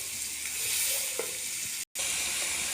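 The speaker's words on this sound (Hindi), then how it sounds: "जो हमने ऑयल डाला था, उसमें हम ये फूल गोभी भूनेंगे ऐसे 5 मिनट।" Cauliflower fries in hot oil with a soft, even sizzle up close, broken by a brief instant of silence near the end.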